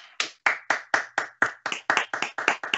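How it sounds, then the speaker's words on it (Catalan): Hands clap in a quick, steady rhythm, about a dozen sharp, evenly spaced claps at moderate volume in a quiet space, sounding more like one or two people than a large crowd. "Bravo, bravo! Molt encanta aplaudir"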